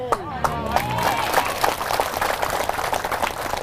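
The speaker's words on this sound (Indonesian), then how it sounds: "Jangan tepuk tangan dulu." An audience at a religious question-and-answer session breaks into scattered clapping, with sharp individual claps over crowd murmur and some talking.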